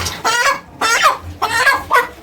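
Several six-week-old chickens on a poultry farm cluck nearby in short repeated bursts, loud and close, with no talking.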